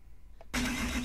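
Diesel engine of a 2008 Blue Bird Vision school bus in the Rigs of Rods driving simulator cranks and catches, a sudden loud broadband roar that holds steady after a quiet moment.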